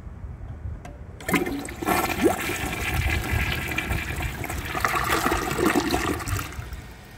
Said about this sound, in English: I'm just gonna set this back here and give it another flush.